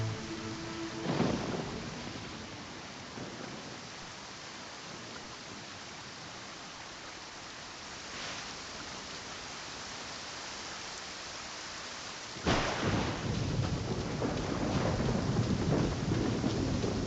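Steady heavy rain hisses throughout a stormy Genshin Impact scene, with thunder rumbling in near the start and around the middle, then a loud, close crack and roll of thunder late on that swells the downpour.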